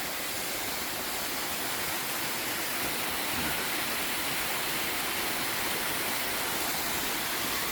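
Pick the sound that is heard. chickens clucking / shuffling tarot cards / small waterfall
small waterfall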